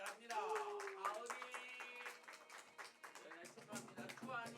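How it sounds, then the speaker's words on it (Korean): A church congregation claps during a Sunday worship service while a voice speaks over it, the clapping light and scattered under the talk. "크게 박수 쳐주시기 바랍니다"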